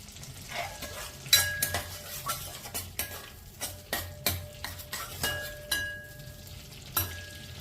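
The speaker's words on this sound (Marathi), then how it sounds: "बटर वितळलं की त्यामध्ये आपण कांदा टाकणार आहोत।" Chopped onion stirred into melted butter in a pan for pav bhaji; a spatula scrapes and knocks in an irregular rhythm over a soft, steady sizzle, close and fairly quiet, with no talking.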